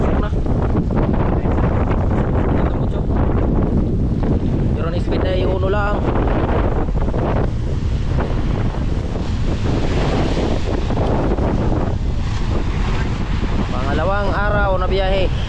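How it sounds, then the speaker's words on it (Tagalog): A boat engine strains steadily against a strong current at sea off the Philippine Rise, under heavy wind buffeting and rushing water, with faint voices and a few brief tonal cries mixed in. "Hirap na makina oh."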